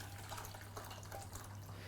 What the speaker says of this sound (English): after the beans have soaked a little bit, we're just going to strain the water right out of them